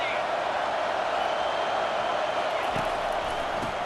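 Stadium crowd noise from College Football 25, West Virginia against Nebraska, fills the air as a steady, dense roar that holds at an even level throughout, with no clear breaks.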